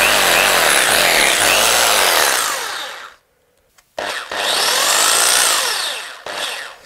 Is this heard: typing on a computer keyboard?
no